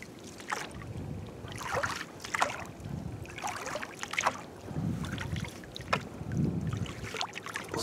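A small boat moves across water while fishing nets are repositioned, with rhythmic splashing and paddle-like strokes recurring about every second over a low rumble and wind buffeting the microphone.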